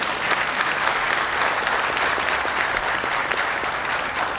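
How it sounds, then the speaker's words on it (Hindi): A crowd at a bank officers' union annual general meeting in Pune claps loudly and continuously, a thick wall of applause holding steady throughout with no voices on top. "जोरदार ताली बजाइए।"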